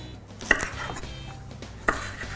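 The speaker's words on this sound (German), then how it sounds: "Dinge zu schneiden" A knife chopping food, likely a leek, on a kitchen board: two sharp, close chops about a second and a half apart over quiet background rustle.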